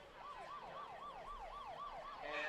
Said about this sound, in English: As the siren sounds to end the first quarter.